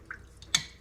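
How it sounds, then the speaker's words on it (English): Water drips from household copper supply lines after the main has been shut off during a utility sink install, one faint high drop followed by a sharper, louder drip splash, close by and with no talking. "Even after you shut the water off, it takes some time to get all the water out of the house lines"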